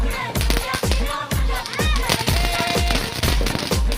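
A Ganga Jamuna firecracker goes off during Diwali as a rapid series of loud, close bangs, each followed by crackle. Sparkling hiss fills the gaps between the blasts.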